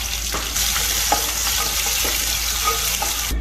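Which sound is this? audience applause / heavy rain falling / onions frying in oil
onions frying in oil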